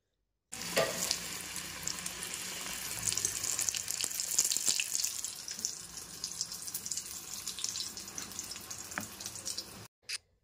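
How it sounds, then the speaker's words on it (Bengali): Beguni, battered eggplant fritters, fry in a wok in hot oil with a steady, bright sizzle lasting several seconds, then it cuts off abruptly, followed by a brief clatter. "আমি একটুখানি বেগুনি রান্না করব"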